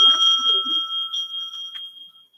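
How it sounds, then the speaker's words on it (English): A bell struck once at a debate timekeeper's table rings out clearly, its bright sustained tone decaying slowly over a couple of seconds with no voices. "The timekeeper will then ring the bell once again"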